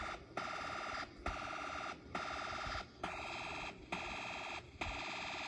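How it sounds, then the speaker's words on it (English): An electronic rapid-fire machine gun sound from a Snap Circuits kit radio plays in about six bursts separated by short, regular gaps. "when I turn on the slide switch, you'll hear a machine gun sound on the radio"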